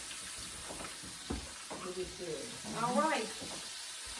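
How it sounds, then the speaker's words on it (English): Four pieces of chicken sizzle in a cast iron frying pan, a soft crackling hiss beneath a short spoken remark, with a brief burst of louder spattering partway through. "let's put 4 pieces of chicken in to our frying pan here. You hear it?"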